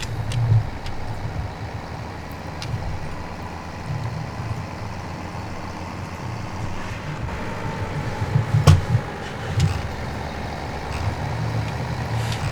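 A tractor with a loader in Farming Simulator 2017 drives along with a low steady engine rumble, punctuated by a few sharp clanks and clicks, moderately loud and continuous.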